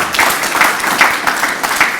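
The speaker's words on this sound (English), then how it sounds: "give the SES a little bit of round of applause" An audience at a community talk on emergency preparedness gives a short round of applause for the SES volunteers, with dense, steady clapping all the way through.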